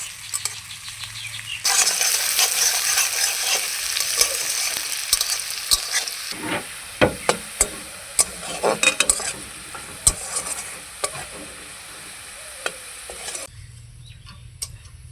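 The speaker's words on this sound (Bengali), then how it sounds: "ভালো করে ফোড়নটাকে আমি ভেজে নেব।" Crushed garlic cloves for a tempering fry in hot oil for masoor dal, with a strong continuous sizzle, frequent spoon scrapes and clatters against the pan, then a sudden cut to quiet near the end.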